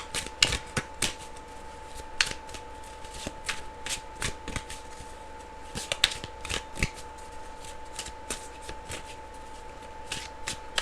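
Keyword cards are handled and shuffled close by, a steady stream of quick papery flicks and taps with brief riffling bursts, set against a faint continuous hum.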